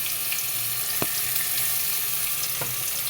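Ground spice paste of onion, garlic, ginger and cumin fries in hot oil with whole garam masala, a constant close sizzle broken by two sharp stirring clinks. No one talks.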